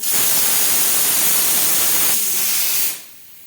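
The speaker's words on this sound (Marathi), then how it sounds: "छोट्या कुकरमध्ये डाळ घातल्यामुळं सिट्टी झाली आणि सगळं असं उडते छोटं छोडं पाणी" Small pressure cooker of dal on a gas stove releasing a loud, steady hiss of escaping steam that tapers and drops off near the end.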